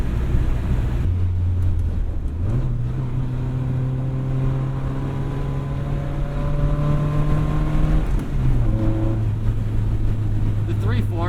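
A 1977 MG Midget drives with its engine droning steadily, the pitch stepping up through gear changes and dropping near the end, while people talk over the cabin noise.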